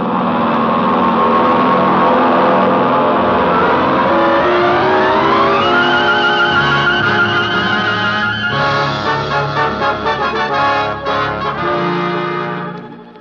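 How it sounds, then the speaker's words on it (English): Piston fighter aircraft engines, Spitfires, roar up and take off as a radio drama effect, a loud continuous engine drone with rising pitch sweeps and layered revving that swells then fades slightly at the end. "All available aircraft must take the air immediately."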